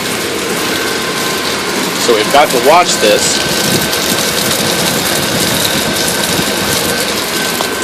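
A water tower pump runs with a steady mechanical whirr and faint ratcheting texture, fairly loud and constant throughout, while someone speaks briefly over it partway through.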